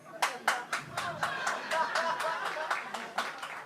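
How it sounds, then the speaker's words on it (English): Audience clapping at a stand-up comedy show breaks out in a short burst of rhythmic handclaps over murmuring and light chuckles, fairly close, with individual claps standing out steadily throughout. "That's a weird thing to give a round of applause to, isn't it?"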